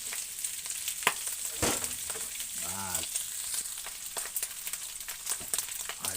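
Chili peppers fry in hot oil for Bicol Express. A steady, close sizzle crackles throughout, with scattered pops and a brief stir partway through.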